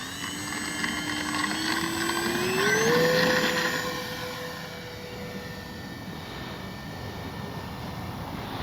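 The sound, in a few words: Kavan Bristell B23 RC airplane doing a touch and go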